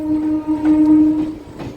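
A MEMU passenger train on the Machilipatnam to Bhimavaram line sounds a loud, sustained horn close by at Undi station, over a steady rumble of the train on the rails.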